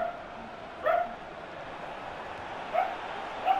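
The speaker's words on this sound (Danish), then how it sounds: "Jeg hader den hund!" A dog in a FIFA 15 career-mode session gives three short yips or barks, spaced apart over a faint steady background hum.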